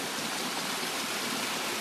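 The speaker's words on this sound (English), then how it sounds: "this stream is right behind our campsite, and you'll see how the water comes up out of these rocks here" A mountain stream wells up out of rocks behind a campsite, giving a steady, full broadband rush of running water, close and continuous, with no voices over it.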